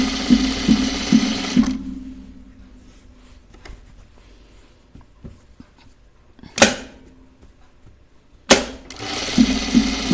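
A home sewing machine stitches a shirtdress in short bursts, a rapid close whir at the start and end with quiet handling and clicks between.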